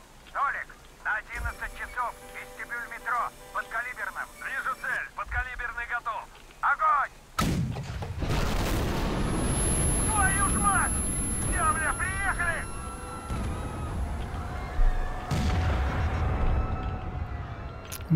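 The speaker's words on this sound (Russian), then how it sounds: "Вот это выстрелил." Gunfire from the Metro Exodus video game in deep snow: two heavy, booming shots roughly eight seconds apart, loud and reverberant, with someone talking over the game's noise.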